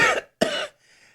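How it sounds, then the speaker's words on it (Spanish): A single sharp cough followed by a second, longer hacking cough from an elderly man in a nightcap and robe sitting in an armchair, close and clear, then quiet. "y tose"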